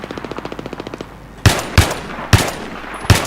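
Gunfire in the Battlefield 3 video game: a quick, evenly spaced burst of automatic fire, then four loud, heavy single shots spaced irregularly, each one cracking close and sharp.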